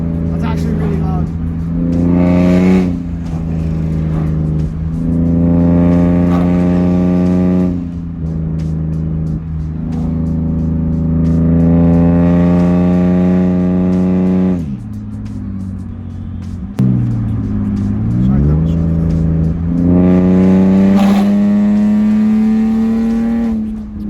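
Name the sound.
BMW E46 M54 engine with catless headers, straight-piped exhaust revving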